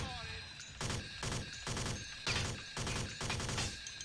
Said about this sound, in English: It sounds like the shooting comes from my left